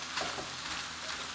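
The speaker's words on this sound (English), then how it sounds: "let's saute them for 5 to 10 minutes until the onions are kind of softish but still not like too squishy" Diced onions and peppers sauté in a pan with a steady, close sizzle and crackle, unbroken for a moment and free of any talk.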